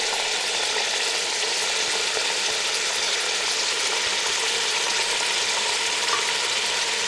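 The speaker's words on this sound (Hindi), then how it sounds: "अब इसको हम 3 से 4 मिनट के लिए भून लेंगे।" Beef and spices frying in a pot for pulao, a loud, steady, close sizzle with a faint stirring scrape, unbroken throughout and without voices.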